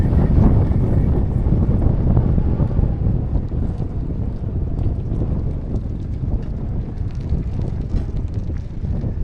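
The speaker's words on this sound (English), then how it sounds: "It is so windy." Strong wind at a shoreline fishing spot roars and buffets the microphone continuously, a loud, rumbling low-frequency gusting with no voices.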